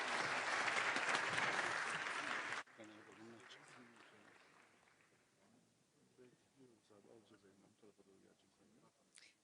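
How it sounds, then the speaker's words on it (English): An audience at a NATO summit event applauds panelists, a dense burst of clapping for about two and a half seconds that cuts off abruptly, followed by quieter talking. "Please join me in giving them a round of applause."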